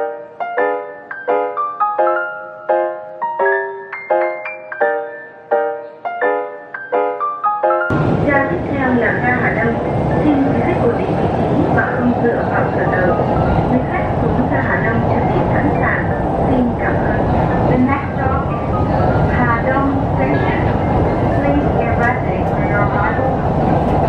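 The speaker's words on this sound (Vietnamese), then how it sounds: "Đây là tàu vừa từ Cát Linh về các bạn ạ." Cat Linh–Ha Dong elevated metro train at a station in Hanoi, a chime of repeated tones followed by a loud, steady rumble of the train arriving, with voices mixed in.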